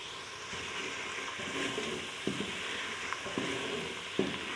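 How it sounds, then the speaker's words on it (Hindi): A spice masala with coriander powder and cumin for green moong dal fries in a pan with a soft, steady sizzle, broken by a few clinks and scrapes from stirring close by. "और मसाला तकरीबन काफ़ी अच्छा भुन चुका है।"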